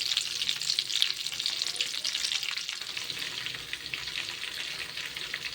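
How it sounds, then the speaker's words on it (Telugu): Stuffed eggplants (gutti vankaya) sizzle steadily in a pan, a dense, continuous bright frying hiss with small crackles throughout, fairly close and uninterrupted by voices. "మనం తీసుకున్న వంకాయలన్నిటిని బాండీలోకి వేసి బాగా ఉడికేంత వరకు"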